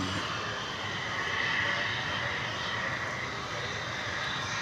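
An Airbus A319 jet, American flight inbound from San Luis Potosi, arrives at Dallas Fort Worth airport as a steady, moderately distant engine roar that holds without breaks.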